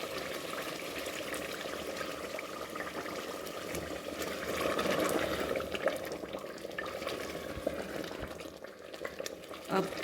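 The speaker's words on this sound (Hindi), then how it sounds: "और थोड़ा सा हम डालेंगे इसमें पानी।" Water poured into a pot of mutton korma that is sizzling and simmering, with steady frying and bubbling noise and some stirring throughout, close and moderately loud.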